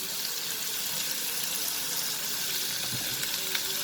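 Chopped onions and green chilies sauté in a pan, giving a steady, close, moderately loud sizzle with faint stirring scrapes throughout.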